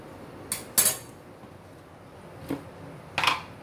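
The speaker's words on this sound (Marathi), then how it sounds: "आता हे गॅस लावलेलं आहे, ह्याच्यावर मी आता भांडं ठेवलंय." A metal cooking pot set onto a gas stove burner: a few sharp metallic clinks and clanks, two near the start and two more later, over a quiet background hiss.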